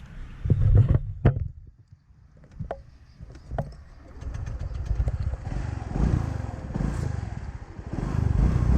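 Honda PCX scooter fitted with a DCK box, starting with a few sharp blips and then revving into a steady, throaty engine drone that rises and falls close by, without talk.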